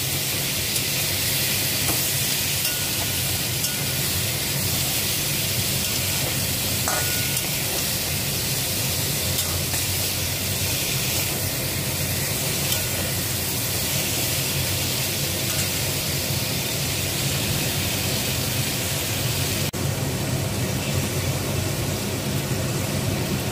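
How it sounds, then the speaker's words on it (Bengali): Vegetables sautéing with turmeric, green chili paste and ginger paste, a dense, even hiss of frying that runs unbroken and fairly loud the whole time. "সবগুলো দিয়ে ভালো করে সবজিটাকে আমি কষিয়ে নেব।"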